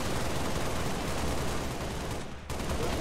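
Dense, continuous gunfire from a Halo Reach firefight in co-op play, a loud unbroken barrage of rapid shots with a brief dip near the end, no voices over it.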